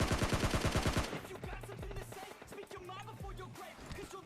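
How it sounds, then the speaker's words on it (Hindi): M4 rifle fire in a shooter video game: a fast, loud burst of automatic shots in the first second, then scattered single and short bursts, more distant, with faint game sounds between. "अब यहाँ पर शायद आपको M4 चलने की आवाज़ आ गई होगी"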